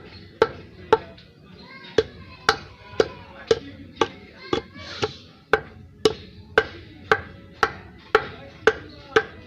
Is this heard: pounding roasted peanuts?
yes